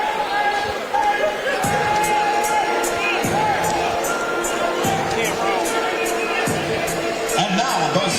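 Crowd at a 2020 SWAC Tournament basketball game cheers and shouts steadily as the Jackson State Tigers are introduced, with whoops and sharp thuds of ball bounces in the busy arena and an announcer talking throughout.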